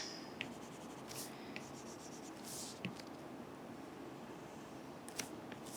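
A stylus scratches and rubs across a tablet screen in quick, soft strokes while erasing sketch lines in Procreate, a faint close-up scribbling with a few brighter ticks over low background hiss and no talking.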